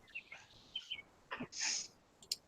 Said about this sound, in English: Sorry if the birds are annoying. I'm outside.